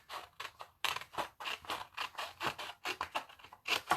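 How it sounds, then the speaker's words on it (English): Scissors snip through paper Christmas card tags in a quick run of repeated crisp cuts, close and clear with no talking. "I'm going to cut out this Holly Yay."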